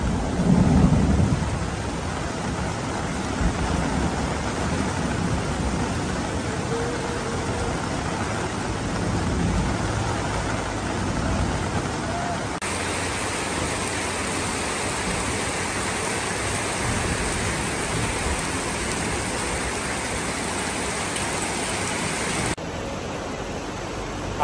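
Thunder rumbles over steady heavy morning rain, with a low boom near the start and dense broadband downpour continuing throughout, loud and close, with no voices.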